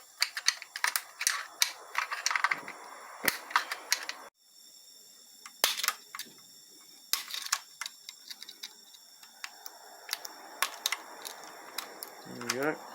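A circlip comes out of a 1961–1964 GM Hydramatic Roto 5 transmission during disassembly, giving close, quiet metallic clicks and ticks at an irregular pace, with brief scraping and a short silent gap.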